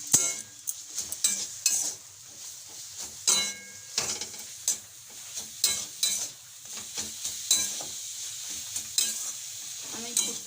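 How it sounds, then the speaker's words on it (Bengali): A spatula scrapes and stirs grated coconut with sugarcane jaggery in a hot pan, with repeated rhythmic scraping strokes over a soft sizzle, close and fairly loud. "আমি গুড়টার সঙ্গে নারকেল কোড়াটাকে ভালোভাবে মিশিয়ে দিচ্ছি।"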